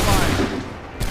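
A volley of musket fire in Assassin's Creed III bursts as a dense, loud crackling roar that fades over a second, followed by another sharp rise at the end.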